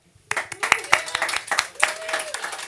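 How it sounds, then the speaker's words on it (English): A small audience at a songwriter session claps for a performer, sparse distinct claps starting after a brief silence, with a voice briefly audible. "Everyone, a round of applause to Jane"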